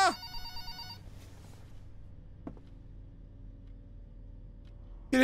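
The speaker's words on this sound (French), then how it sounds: "Téléphone, il sonne, mais je peux rien faire." A telephone rings in the Five Nights at Freddy's video game, a brief bright electronic ring at the start, then a low hum and a single soft knock, with another ring cutting in at the very end.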